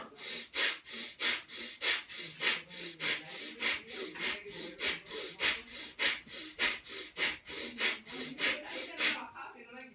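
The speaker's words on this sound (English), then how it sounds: "we're going to breathe very hard out through the nose" Hard, rhythmic forceful exhalations through the nose during a breathing exercise, about twenty-five quick bursts at a steady fast pace, close and fairly loud with no talking.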